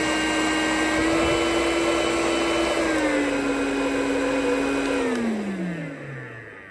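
A Shark Freestyle Max cordless upright vacuum cleaner runs on hard flooring with a loud, steady motor roar and whine. The pitch steps down slightly partway through, then the motor winds down at the end. There is no talking.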